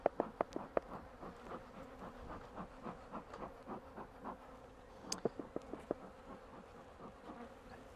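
Honey bees buzz steadily at an opened hive during an inspection of the brood box, a continuous close hum broken by sharp clicks and knocks of handling near the start and again midway.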